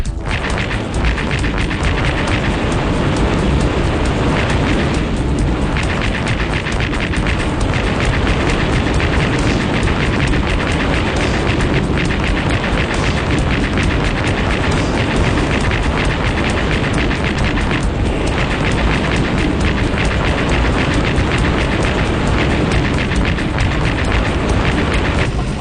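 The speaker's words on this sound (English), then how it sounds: "you actually get to fire some missiles at the building" Missiles slam into a building in a Sega Dreamcast video game, producing a loud, continuous roar of blasts and rumbling debris with no break for the whole stretch.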